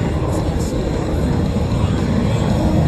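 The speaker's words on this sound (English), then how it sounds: "the F-16 Fighting Falcon and the 4-point roll" An F-16 Fighting Falcon fighter jet flies at an air show, giving a loud, broad, rushing roar that holds steady through the short stretch.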